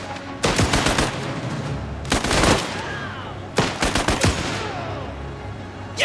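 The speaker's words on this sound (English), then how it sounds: "The Reds are shooting at the convoy." Machine gun fire aimed at a convoy in the video game Last Train Home: three loud bursts of rapid automatic shots separated by short pauses, no talk.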